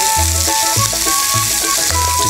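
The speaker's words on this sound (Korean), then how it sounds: "지글지글 하면서 노릇노릇해야 맛이 나요" Mackerel pan-fries at high heat with garlic, giving a steady, loud, close sizzle and crackle throughout, with a few soft clinks of a utensil against the pan.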